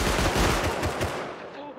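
Automatic gunfire rattles loudly through a raid battle in the survival game Rust, a dense continuous burst of rapid shots that tapers off toward the end.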